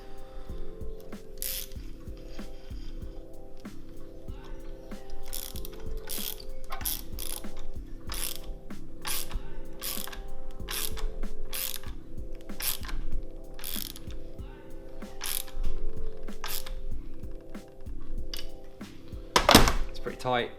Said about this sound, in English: So what we're gonna do now is obviously just screw it down or bolt it down.